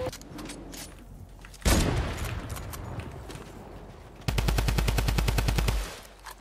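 A Tommy Gun fires in Fortnite Chapter 2: scattered shots first, then a sharp loud burst, and later a long, fast, evenly spaced string of rounds that stops abruptly.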